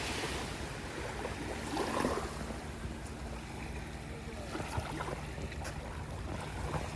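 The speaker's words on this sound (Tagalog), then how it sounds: "Sarap lang pakinggan ng tubig niya." Steady, loud wash of sea waves rolling in, mixed with gusty wind buffeting the microphone, with no clear talking.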